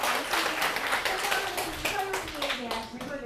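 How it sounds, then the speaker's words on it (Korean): Audience applause after a university lecture in a hall, a brief round of many hands clapping, moderately loud and close, fading toward the end. "다시 한번 박수를"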